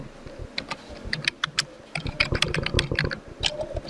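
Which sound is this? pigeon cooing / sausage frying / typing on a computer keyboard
typing on a computer keyboard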